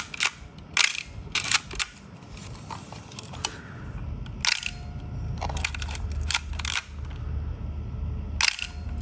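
Nikon camera shutter fired through a Japan-made AR-1 style soft shutter release, giving a series of sharp, crisp clicks spread irregularly over a steady low background hum, close and fairly loud.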